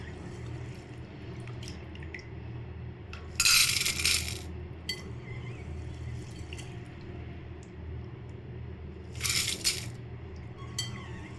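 Soaked green gram and rice tip into a pressure cooker in two short, rattling, splashy pours several seconds apart, against a quiet kitchen background.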